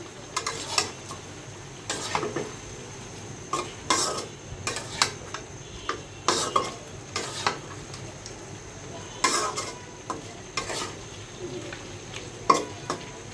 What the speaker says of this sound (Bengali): এখন একটু চুলা রাসটা বাড়াই আমি একটু নাড়া দিব